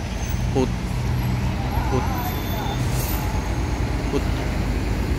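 Putri Mila coach bus from Medan idling and moving amid roadway traffic, a steady loud engine drone with short hissing and squealing accents.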